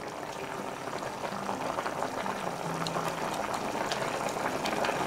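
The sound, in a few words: kimchi tofu enoki mushroom soup boiling in a pot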